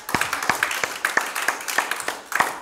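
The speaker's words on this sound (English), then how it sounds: "Let's give the Lord a hand clap." Congregation clapping hands in praise during a Sunday church service, giving sharp, evenly spaced claps at a steady rhythm, moderately loud in a reverberant hall with a faint murmur beneath.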